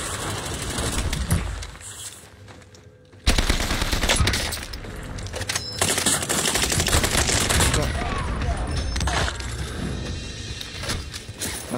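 Rapid bursts of gunfire from sniping and firefights in the Call of Duty video game, loud and continuous with sharp onsets, mixed with game effects and occasional voices.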